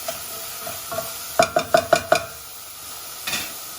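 Onion and mushrooms frying in a pan, a spoon knocking against the pan in a quick run of five sharp clinks over a faint sizzle, then one more scrape near the end.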